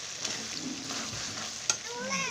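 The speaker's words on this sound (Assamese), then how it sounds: "এয়া মই মাংসখিনি আকৌ লৰাই দিছোঁ ঢাকনি পোৱাত খুলি" Duck meat frying in a wok, stirred with a spatula, a steady close sizzle with scraping strokes and one sharp clink.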